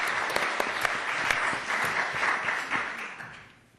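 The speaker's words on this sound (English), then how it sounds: "Let's give him a round of" An audience at a higher-education summit panel applauds in a steady, moderately loud wave of clapping that fades away toward the end.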